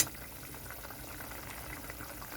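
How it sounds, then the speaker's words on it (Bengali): Potato curry broth boiling steadily in a pot, a dense, even bubbling that holds at a constant level throughout with no talk over it. "খুব ভালোভাবে ঝোলটা ফুটে গেছে"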